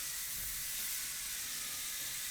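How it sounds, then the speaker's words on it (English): Car wash foam fizzes steadily on the paint of a Renault Megane Scenic, a close, continuous bright hiss with no pauses or talk. "So the lovely foaming starts."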